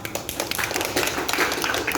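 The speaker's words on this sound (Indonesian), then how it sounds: "Oke, tepuk tangan buat kita semua." Short burst of hand clapping from a small group at the Balai Kirti museum, uneven taps fairly close and moderately quiet, fading toward the end.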